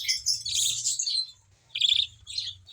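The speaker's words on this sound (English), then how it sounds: "This is a bird." Small pet birds, one yellow and one white, chirp indoors in quick high twittering bursts, two clusters separated by a brief pause, close and clear with no talking.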